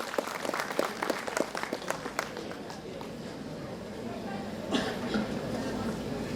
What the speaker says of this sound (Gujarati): એકવાર જોરદાર તાળી અબ્દુલ રજાક મેમણ સર માટે.